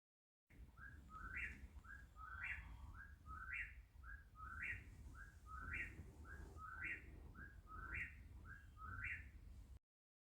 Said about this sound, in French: Beaucoup d'oiseaux, mais pas de faune au sol visible.